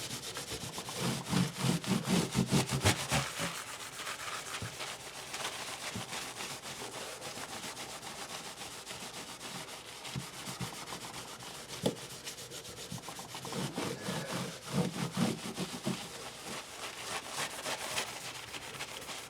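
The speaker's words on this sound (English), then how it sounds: "And then I take a napkin and I clean the excess off" A napkin wiping excess oil off the fretboard of a PRS SE electric guitar during a restring: steady soft rubbing and swishing strokes, close and continuous, with a few louder passes and no speech.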